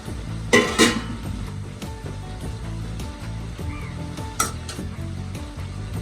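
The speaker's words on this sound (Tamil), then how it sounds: "இப்போ எடுத்து இடையில கிளறி விட்டுக்கோங்க." Cabbage poriyal with prawns being stirred in a pan, with a close, steady sizzle and a low hum underneath, punctuated by a few sharp scrapes and knocks of the spoon against the pan.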